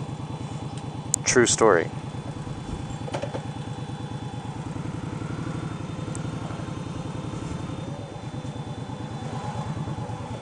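An Indian Scout Sixty motorcycle with stock handlebars idles and rumbles steadily with a low pulsing throb, a brief louder rev near the start, while a person speaks briefly.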